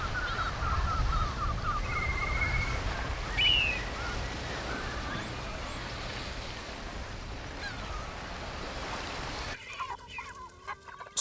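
Chickens cluck at a chicken farm near a kite's hunting ground, a steady outdoor murmur of fowl at middle distance with occasional louder calls, then a brief shift to a different, busier sound near the end.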